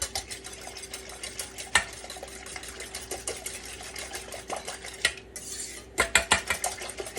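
Whisking four eggs with milk and salt in a bowl, a rapid continuous rattle of a metal whisk against the bowl, close and fairly loud, with a brief pause near the end.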